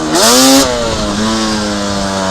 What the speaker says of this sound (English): You hear how smooth it is, even in the lower RPMs?